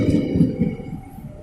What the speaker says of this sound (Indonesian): Majapahit masuk ke stasiun Bekasi